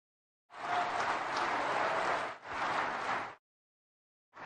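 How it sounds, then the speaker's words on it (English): An audience at the SharePoint 2013 keynote applauds in a steady burst of clapping, which dips briefly and resumes for a second, shorter stretch before stopping. "whoever had drag and drop in the pool is getting the first big applause"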